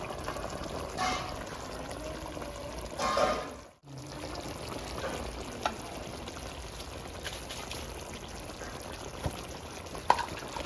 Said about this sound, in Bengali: বাটি ধুয়ে জলটা দিয়ে দেবো।